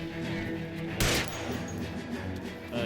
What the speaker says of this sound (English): I didn't mean to shoot that.